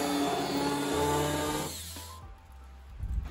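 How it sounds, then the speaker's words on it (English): A power drill whirs steadily at close range for under two seconds, enlarging a bolt hole on a Kubota tractor, then stops, leaving quieter clicks and small handling noises. "we're going to drill out this hole"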